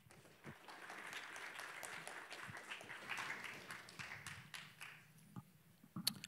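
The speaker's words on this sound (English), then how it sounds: "So please give Kautuk a massive round of applause." Audience applause for the founder of Stackr Labs at a tech talk, a steady wash of many hands clapping at moderate level that thins out near the end with a few scattered final claps.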